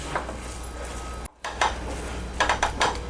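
Gram flour is roasted for besan coconut barfi, a spoon scraping and clinking against the pan in a few scattered strokes over a low kitchen hum.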